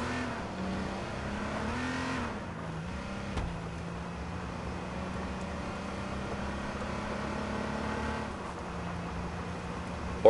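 A police car driven in a video game, its engine droning steadily and shifting pitch as it accelerates, with a brief jolt partway through; no talk.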